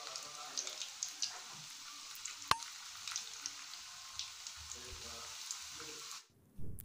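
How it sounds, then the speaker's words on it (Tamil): Cauliflower 65 pieces deep frying in hot oil, a steady close sizzle and crackle with scattered pops and one sharp clink, ending abruptly in near silence before a brief low thump. "சேர்த்து நல்லா பொரிச்சு எடுத்துக்கோங்க. நல்லா வேகட்டும்."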